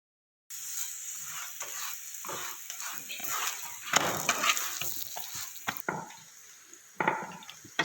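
Radish (mooli) paratha frying in oil on a pan, a continuous sizzle broken by scraping and spatula handling as the flatbread is turned, with occasional louder crackles and a voice now and then.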